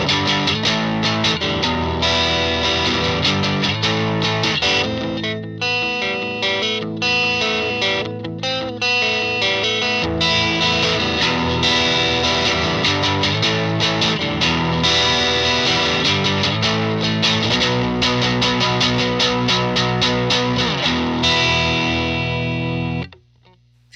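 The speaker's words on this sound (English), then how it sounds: "here's it with like some distortion-y chords" Electric guitar chords ring out through a distortion pedal on a pedalboard, a loud, sustained, saturated wash of strummed chords lasting about twenty seconds before cutting off abruptly.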